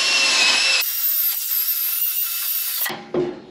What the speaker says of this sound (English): the same way you do it, which is with a wire wheel